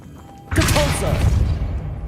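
A Depulso force spell in Hogwarts Legacy hits with a sudden loud thudding impact that rolls into a brief rumbling burst, close and forceful, with a voice calling out over it.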